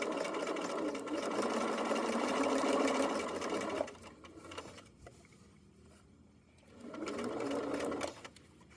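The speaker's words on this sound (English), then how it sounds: "So I'm going to back stitch here, and I'll go around here, keeping those two things lined up." A sewing machine back stitches a fanny pack top panel to a zipper, running in a loud steady whir for about four seconds, pausing to a quiet lull, then starting again in a second burst.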